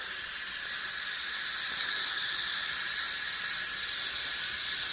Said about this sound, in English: Now you want to release the steam.